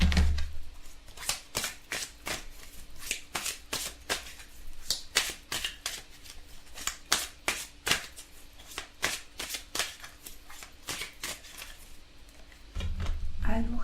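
Tarot cards handled and shuffled: a long run of crisp, close snapping and riffling bursts in a quick, irregular rhythm, with soft rustling between them.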